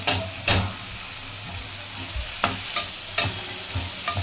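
Carrots, beans and masala stir-fry for soybean pulao, with a steady sizzle in the pan broken by several sharp scrapes and clacks of a spoon stirring the mixture.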